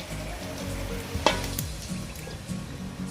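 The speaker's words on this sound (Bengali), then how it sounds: "জল দিয়ে দিন আমরা বড়িগুলো দিয়ে দেব" Water and bori lentil dumplings going into a hot pan of vegetable curry set off a steady, close sizzle, with a sharp burst partway through and stirring noises under the frying.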